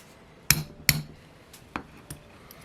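Sharp metallic hammer blows strike a rusty Boca Econo bearing being knocked apart to free its races, two loud close impacts followed by two lighter taps with quiet gaps between.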